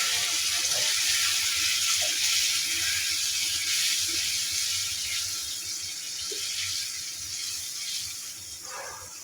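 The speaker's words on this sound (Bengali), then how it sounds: "শুটকিগুলোকে ভালোভাবে সিদ্ধ হওয়ার জন্য পানি দিয়ে দিচ্ছি" Water runs steadily into a pan of dried loitta fish with spices being cooked into a bhuna, a continuous splashing pour lasting several seconds, close and fairly loud with no talking.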